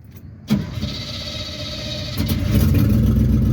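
A wrecker truck engine cranks with a sharp onset and catches, then settles into a steady mid-pitched idle that swells louder toward the end, close by and with no talk.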